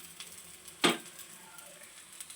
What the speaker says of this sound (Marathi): आता दुसऱ्या साईडने मी भाजून घेते.